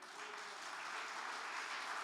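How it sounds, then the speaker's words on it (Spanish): A church congregation applauds together, a steady wash of many hands clapping at a distance, fairly faint and even throughout, with no talk on top. "Dale un aplauso a Cristo,"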